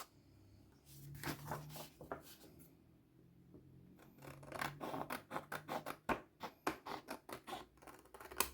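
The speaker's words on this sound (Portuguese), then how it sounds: "Agora, você vai recortar esse excesso aqui, ó." Scissors snip through excess fabric for a homemade makeup bag, the blades slightly dull, giving a close series of short crisp cuts, sparse at first and then a quick rhythmic run of snips with no talking.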